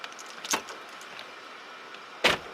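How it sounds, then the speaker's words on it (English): A Dodge Challenger's car door thuds shut twice, once softly and once more firmly a couple of seconds later, against a quiet background. "Close the door. It's not closed."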